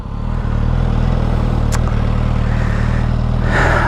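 A Suzuki GSX-S1000 motorcycle engine with stock exhaust gets a warm start and settles into a steady, throbbing idle, loud and close, with a brief click partway through.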